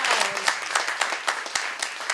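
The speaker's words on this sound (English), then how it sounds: "Let's give a round of applause" A community audience at an East Oakland listening session bursts into a round of applause, a dense, close wash of many hands clapping with scattered sharper claps standing out, steady for about two seconds.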